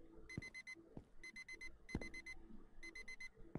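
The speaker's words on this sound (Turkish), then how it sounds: "Nerede lan alarm?" An alarm clock ringing in the video game Streamer Life Simulator: four bursts of rapid, high electronic beeps repeat in a steady pattern, with soft thuds and clicks in between.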